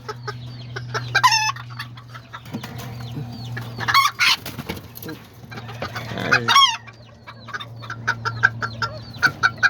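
Several roosters cluck and call in irregular bursts, with a steady low hum running beneath and a few sharper squawks rising above.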